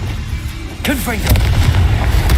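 Confringo explosive spell in the video game Hogwarts Legacy, a short spoken voice followed by a loud, rumbling explosive blast that lingers and fills the rest of the moment.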